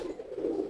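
A pigeon coos softly in a low, rolling murmur, close by and steady through the short moment, with no talk around it.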